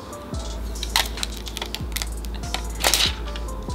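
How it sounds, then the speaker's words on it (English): Plastic protective film peeled off a Samsung Galaxy Note 8, heard as several short crackling, clicking bursts over a low steady background hum, close and moderately quiet, with no talking. "you wanna go ahead and pull off the plastic for the second time?"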